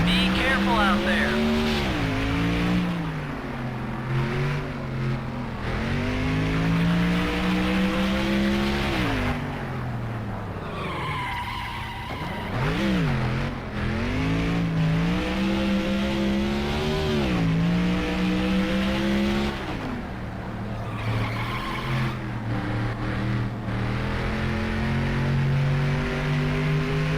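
A stock car engine in the NASCAR Thunder 2004 video game drones loudly and continuously on a road course, its pitch rising and falling with revs and shifts while someone talks over it.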